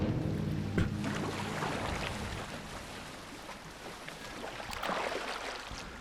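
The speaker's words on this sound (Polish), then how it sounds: "to łódko to się trochę średniawo płynie" A rowboat glides on water in Assassin's Creed Mirage. Continuous water lapping and gentle oar swishes run throughout at a moderate, even level, with a faint breezy hiss and no speech.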